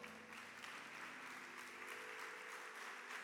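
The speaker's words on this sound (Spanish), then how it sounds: "Dale un aplauso al Señor." A church congregation applauding the Lord during a service, continuous clapping heard faintly and at a distance, steady throughout.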